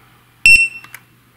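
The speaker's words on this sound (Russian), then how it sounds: "сразу раздастся звуковой сигнал, он будет периодически пищать и показывать, какое именно колесо у вас спущено" A tire pressure monitor switching on gives one loud, sharp electronic beep, followed by a couple of fainter short chirps, heard close up in an otherwise quiet room.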